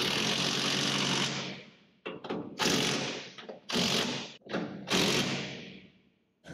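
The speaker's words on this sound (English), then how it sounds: "Jason tightens the steering box to the unit body" Bolts are tightened on the steering box of a 1967 Shelby GT500 Mustang being restored, in loud bursts of a power tool separated by short pauses, with mechanical rattling and thuds and no talking.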